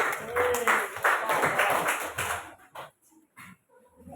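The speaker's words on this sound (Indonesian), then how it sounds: "tepuk tangan untuk Mas Paki." Audience clapping for a presenter at a teachers' coaching and academic supervision session, a burst of claps mixed with murmuring for about two seconds, then fading into near quiet with a few scattered sounds.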